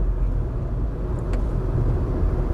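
A car cruises along a highway in Bahrain, giving off a steady low road rumble and tyre noise with constant engine drone and no talking.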